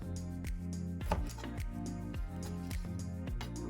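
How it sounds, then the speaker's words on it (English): A knife slices sweet Norwegian tomatoes on a board, sharp regular cuts landing roughly twice a second over a steady background hum, close and clear with no talking. "So I cut it into small slices like this, which I'll have on the top of my omelette."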